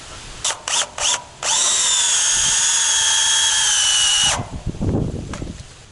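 A power drill driving long screws into a wood stump for a DIY solar array ground mount: a few short trigger bursts, then one sustained loud whining run that stops abruptly, followed by handling clatter.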